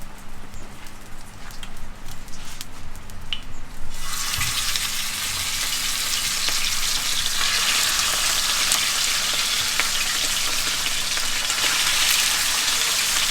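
After a few seconds of quiet clinks, beef hits hot oil in a saj and a loud, steady sizzle and crackle takes over and continues.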